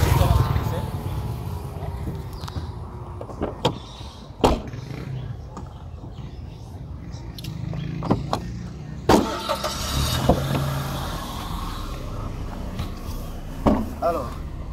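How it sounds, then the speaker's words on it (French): Car starting up for a short test drive, with clunks and door or latch clicks, a brief engine start and then a low idle, while someone talks over much of it. "nous allons faire un petit essai en voiture. Nous allons démarrer, faire un petit essai"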